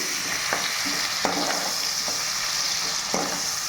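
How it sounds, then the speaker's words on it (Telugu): Chicken curry ingredients fry in a pan until golden red, giving a steady loud sizzle broken by a few sharp scrapes of a stirring spoon, with no talking. "ఇది కొంచెం దోరగా వేగాలండి. కొంచెం రెడ్ కలర్ వచ్చేదాకా వేగాలి."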